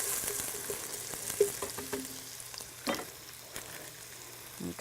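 Olive oil and onion frying in a pan: steady close hiss and crackle with a few scraping stirs and taps breaking through, continuous throughout, with no voices.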